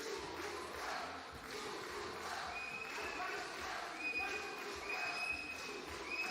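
Local crowd at a 3x3 basketball qualifier final, roaring and cheering as a steady, rumbling wash of noise, with whistle-like tones and a commentator's voice over it.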